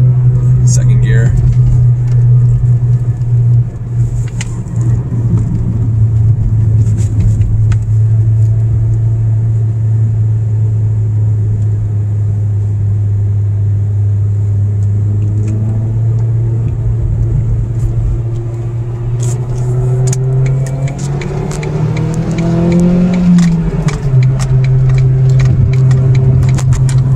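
A Ford Focus SVT pulls in second gear with a steady low engine drone and rumble inside the car, rising in pitch toward the end, while someone talks over it.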